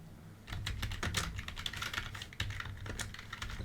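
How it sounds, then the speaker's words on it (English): Quiet, rapid keystrokes tap away on a computer keyboard in a steady, unbroken flurry with brief pauses, with no voices. "What am I typing in?"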